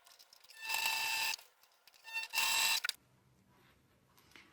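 Home sewing machine running two short stitching bursts on a small patchwork fabric bag, close and fairly loud, each with a rapid whirring buzz, separated by a quiet pause and ending in quiet handling sounds.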